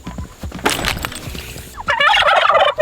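Turkeys gobbling close by, big white birds being moved near a barn, a burst of rapid warbling gobbles that swells loud toward the end amid rustling and scuffing.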